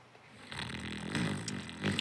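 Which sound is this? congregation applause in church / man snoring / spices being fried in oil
man snoring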